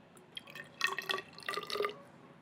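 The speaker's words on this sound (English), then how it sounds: "I pour my Gatorade to about 10 milliliters, as you see." Gatorade pours into a graduated cylinder on a table, a short burst of splashing, trickling liquid that swells and fades over a couple of seconds, close and fairly faint, with no talking.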